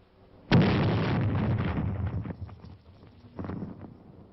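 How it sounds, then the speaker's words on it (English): A grenade blast in a dugout, heard in a WW2 U.S. Army training film as a sudden loud burst followed by a rumbling, crackling decay that swells briefly again near the end. "Toss in a grenade and let them divide it."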